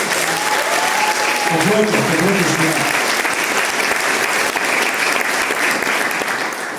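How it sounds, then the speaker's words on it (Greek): An audience at a Greek pita-cutting celebration breaks into sustained, loud applause that carries on for several seconds, with a brief spoken phrase near the start. "Για αυτό θέλω το χειροκρότημά σας."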